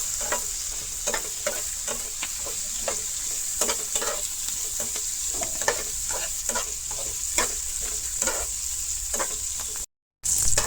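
Chopped ginger and curry leaves fry together in a pan, giving a continuous close sizzle punctuated by regular scraping stir strokes. There is a momentary dropout near the end and no talk.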